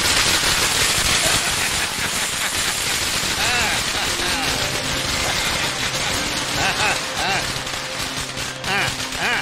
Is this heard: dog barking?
no